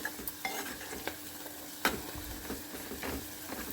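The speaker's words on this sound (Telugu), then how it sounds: "మెంతాకు మాత్రం మంచిగా ఫ్రై అయ్యేదాకా వెయిట్ చేయాలి" Fenugreek leaves sizzle and fry in a pan while a utensil stirs and scrapes them in repeated strokes, with a few louder clacks, close and steady with no talking.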